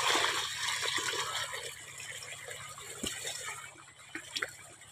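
Water gushes steadily from a garden hose outdoors, a continuous splashing flow that eases slightly toward the end, with a few faint knocks and no speech.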